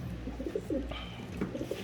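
A Pigeon Jewelry bloodline hen pigeon coos close by, a few soft, throaty rolling coos repeated in short phrases against a low background hum.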